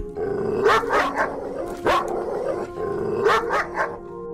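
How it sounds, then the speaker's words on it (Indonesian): Several loud, sharp barks of wild dogs come in short clusters, close by, with brief pauses between bursts and a low droning background. "Gonggongan anjing liar terdengar jelas dan membuat bulu kuduk suami berdiri"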